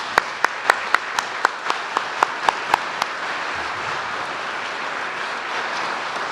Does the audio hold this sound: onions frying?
no